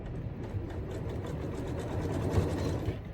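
A domestic sewing machine runs steadily while back stitching through a fabric tote, a low continuous mechanical whir at moderate volume with no voices.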